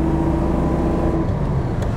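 A car with a 120 PS engine pulls steadily up a slope, its low, continuous engine drone close and even, with a faint tonal whine that fades partway through.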